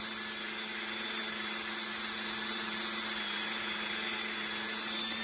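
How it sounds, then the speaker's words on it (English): A rotary tool fitted with an abrasive wheel runs steadily while trimming the edges of a polymer clay pendant, giving a continuous high whine with a low hum beneath it that holds a constant level throughout, with no voices. "Now, I do also use these wheels to trim up the edges."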